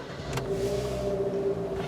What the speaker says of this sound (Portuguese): Prisma em funcionamento.